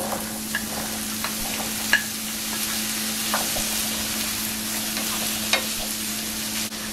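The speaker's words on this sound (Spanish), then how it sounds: "En un sartén a fuego medio le vamos a agregar 3 cucharadas de aceite de oliva. Y vamos a añadir el zucchini y el pimentón rojo." Zucchini and red pepper sauté in three spoonfuls of olive oil in a pan over medium heat, a steady close sizzle with a few light stirring clicks over a constant low hum.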